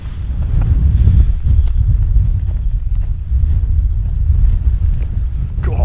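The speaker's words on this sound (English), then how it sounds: "God, that wind is fierce." Strong gusting wind buffeting the microphone on an exposed fell near Sleddale, a loud continuous low roar that swells and eases across the whole stretch with no talk over it.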